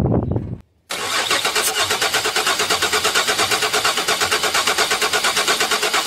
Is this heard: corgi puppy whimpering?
no